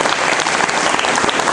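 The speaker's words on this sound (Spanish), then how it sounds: "Un aplauso para nuestro comandante Chávez" Audience applause for Comandante Chávez at a political gathering, a dense, steady burst of many hands clapping together, loud and close, with no talk over it.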